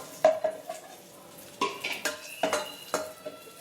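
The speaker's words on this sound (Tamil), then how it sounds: "நெய் நல்லா காஞ்சிருச்சு. நம்ம இப்போ முந்திரியை போட்டுக்கிறோம், திராட்சையும் போட்டுக்கிறோம்." Cashews and raisins drop into hot ghee in a pan, with sharp clinks of a utensil against the metal, a faint sizzle and intermittent stirring taps nearby.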